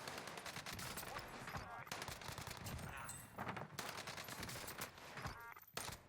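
Gunfire in the Call of Duty Warzone video game on Rebirth Island, rapid automatic bursts and repeated shots crackling in a busy, fairly quiet mix, with faint voice chatter underneath.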